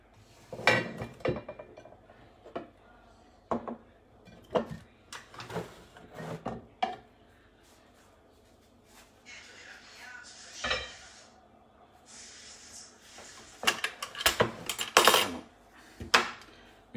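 A wooden cutting board is handled in a home kitchen, with a series of close, sharp knocks and clatters of board and utensils, scattered irregularly with brief quiet gaps.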